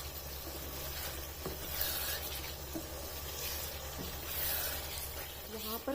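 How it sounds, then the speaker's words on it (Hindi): Lauki koftas being fried in a masala gravy in a pan, a soft continuous sizzle with occasional stirring clinks, fairly quiet under a low steady hum. "अब इन कोफ्तों को इसमें 2 से 3 मिनट तक भून लेना है।"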